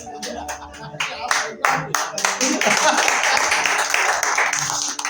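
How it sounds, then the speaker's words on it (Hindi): An audience at a Hindi comedy poetry gathering claps, starting with a few scattered claps and building into dense continuous applause, with a voice speaking over the start. "तालियां बजाएं।"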